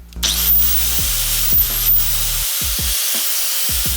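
A Makita angle grinder whines at high speed with a steady motor hum, then spins down, followed by several short sharp bursts as it is triggered on and off.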